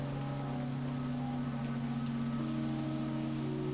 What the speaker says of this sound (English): With the rain, I wasn't expecting anyone here.